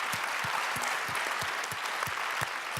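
Applause from a conference audience at a plenary session, a dense steady patter of many hands clapping at a distance, fairly faint, with no voices over it.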